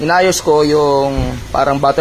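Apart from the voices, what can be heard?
No everyday noise stands out behind the speech.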